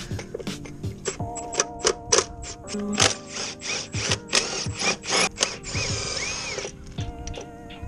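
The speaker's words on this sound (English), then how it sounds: "What we're gonna do is take off this throttle body." Hand tools working on a Dodge Ram HEMI engine bay while the throttle body comes off: a run of sharp ratchet clicks and metallic clanks in irregular bursts, close and fairly loud, with no talking.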